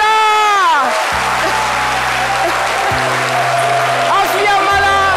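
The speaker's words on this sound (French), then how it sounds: "Je commande des applaudissements enflammés" A studio audience applauds at a televised variety show, a steady wash of clapping running under a loud presenter's voice and a sustained low musical tone.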